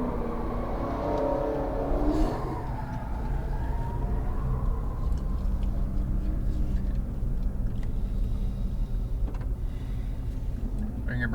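A Nissan GTR engine takes a little throttle through a left-hand corner in a parking structure, a low steady drone that swells briefly early on and then settles, with someone talking over it.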